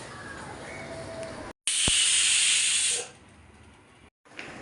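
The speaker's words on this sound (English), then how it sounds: "First I will grind the coriander first, then I will grind this separately and mix it." A mixer grinder runs on roasted coriander and red chilli with a loud steady whirring hiss for about a second, then stops. Quieter background noise surrounds it and no one speaks.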